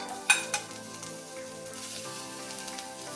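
Chopped tomato tipped into a pan of frying mushroom masala on low flame: a sharp clatter and hiss as it lands, then steady sizzling with stirring scrapes.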